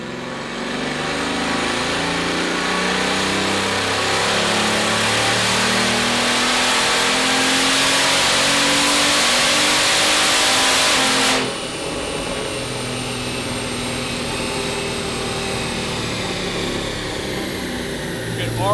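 A Bugatti Veyron engine revs on a dyno on its first running tune, a loud sustained roar climbing in pitch, then cutting back to a lower idle-like drone about two-thirds through.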